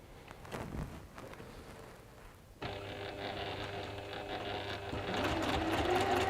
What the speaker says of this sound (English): you're going to sew those two pieces together